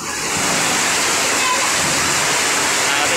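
Loud, steady rushing floodwater fills the clip, a dense continuous roar like a torrent surging close by, with no pauses.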